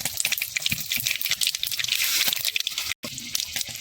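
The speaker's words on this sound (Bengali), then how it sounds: "আমাদের লঙ্কাগুলো অনেকটা ভাজা কমপ্লিট" Green chillies fry in a pan for besan dhokla, a close crackling, watery sizzle with irregular pops and stirring, cut by a brief silent gap near the end.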